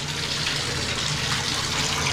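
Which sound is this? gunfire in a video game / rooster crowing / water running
water running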